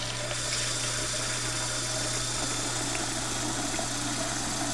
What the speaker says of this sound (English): Just start your water on your sink.